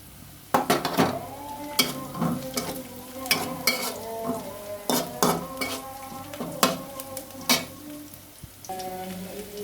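Bottle gourd cooks in a pan with shing and taki fish. A spatula scrapes and knocks against the pan in an irregular rhythm over a faint sizzle, up close, with no one speaking.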